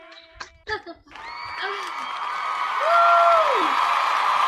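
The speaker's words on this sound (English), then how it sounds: "round of applause for everyone?" Audience applause at an awards ceremony in a packed hall builds from scattered claps into a steady, dense wash, with voices calling out and whooping over it and a few tonal cheers rising and falling.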